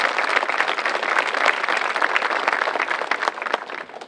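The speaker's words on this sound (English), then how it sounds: "I think we can all say with a collective round of applause, congratulations to both teams in front of us." A crowd at a women's football grand final between North Geelong and Modewarre breaks into dense, steady applause of many hands clapping, which stays loud throughout and tapers slightly at the end.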